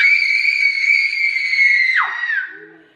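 Several people scream at once in a loud, sustained high-pitched shriek lasting about two seconds, then the pitch drops and the voices trail off into a brief fading tail, with no talking.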